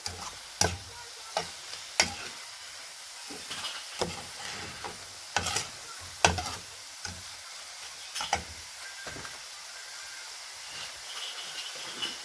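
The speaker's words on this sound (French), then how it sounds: "Bon, faut bien laisser tout ça mijoter. Mélanger bien pour qu'il y ait un goût." Spaghetti sauce with green beans simmers in a pot while a spoon stirs it, sharp intermittent scrapes and knocks over a soft, steady bubbling hiss.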